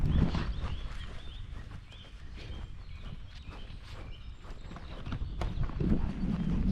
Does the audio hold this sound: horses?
yes